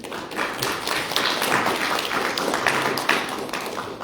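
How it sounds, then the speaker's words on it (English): A seminar audience in Peach Springs, Arizona gives a full round of applause, dense overlapping claps from many hands holding steady for several seconds, close and loud with no talk over it. "Round of applause, please."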